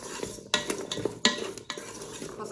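Carrots and celery with olive oil being mixed in a warming Ninja Foodi pot, a few close scraping stirs and light clinks over a soft sizzle, with no voices.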